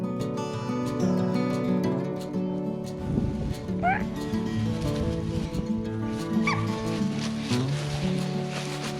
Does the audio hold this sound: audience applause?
no